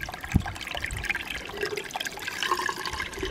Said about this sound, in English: I've temporarily hooked this up to my hose running from the spring. You can see the bucket's filling up.